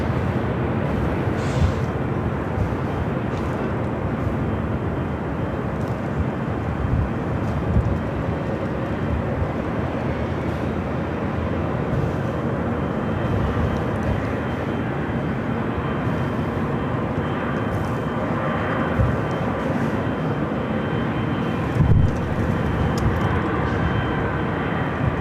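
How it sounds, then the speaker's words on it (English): A Virgin Atlantic Airbus A350 taxis at Los Angeles International Airport, its jet engines giving a steady, loud roar that holds evenly throughout with no voices. "Also Virgin A350 heading back to London Heathrow,"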